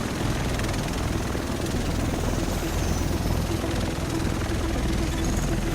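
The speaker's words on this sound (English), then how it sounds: "The rest of us should be in this chopper." A helicopter arrives in the video game The Division, its dense rotor roar loud and steady throughout, filling the whole scene with constant thudding noise.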